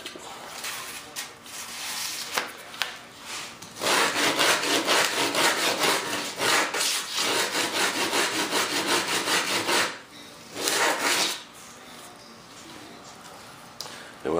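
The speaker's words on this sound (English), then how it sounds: "And when I get the other side sanded" Steady back-and-forth rasping of sandpaper on a part of a large yellow F-18 turbine model jet, close and continuous, with a few brief pauses and handling knocks.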